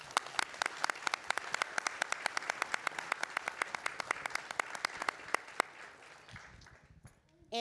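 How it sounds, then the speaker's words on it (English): Audience members applaud contestants at a college cosmetology hair competition, with sharp individual claps standing out over a crowd ovation that stays steady and then dies away after about six seconds. "So give yourselves a round of applause"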